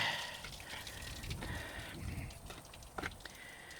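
Brownish water drains from the leaky radiator of a Ford Model T, a faint close trickle with scattered drips and splashes and no talking.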